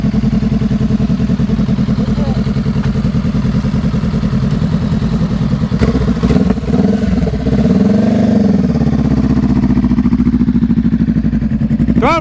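A motorcycle engine putters along during slow-speed riding practice, a close, steady low rumble with a clattery edge that swells into a brief throttle rev partway through and then settles back.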